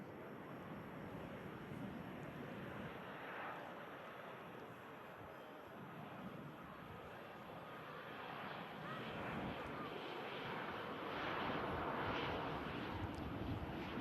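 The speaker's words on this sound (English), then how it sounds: "Two here from Reus touching down." A passenger jet arriving from Reus lands at Manchester Airport, its engines a broad distant roar that swells toward the end, with some wind noise and no clear talk.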